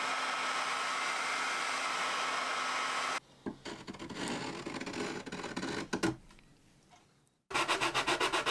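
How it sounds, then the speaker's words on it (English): A heat gun blows with a steady airy roar, then cuts out and gives way to scraping and rubbing as glue is peeled off a dog bed build, before the blower starts again. "I'm going to hit the rest of this with the heat gun to try and peel it off easier."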